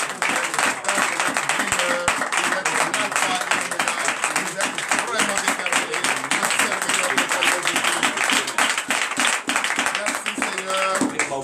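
Lively, dense applause fills a church service, with many hands clapping vigorously and steadily alongside crowd voices and talk, continuous and loud throughout.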